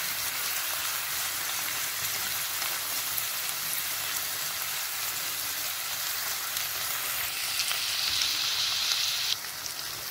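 Onion and tomato fry steadily in a pan with a continuous hiss and crackle, soft and even throughout, rising slightly toward the end.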